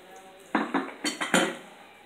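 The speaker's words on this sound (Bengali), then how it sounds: "একটু সিরকা দিয়ে সিরকা দিয়ে মাখা নড়াই দিচ্ছি" Whole olive pickle is mixed with vinegar in a bowl, producing five quick utensil-on-bowl clinks and scrapes in an uneven rhythm, close and clear.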